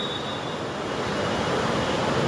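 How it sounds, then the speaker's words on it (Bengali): Rain drumming on a tin roof over a metro rail station, a steady broadband patter that fills the clip evenly from start to finish, with no voices. "মেট্রো রেলে উপরে টিনের আওয়াজ, বৃষ্টি পড়লে যে একটা আওয়াজ হয় না, এটা আওয়াজ পাওয়া যাচ্ছে"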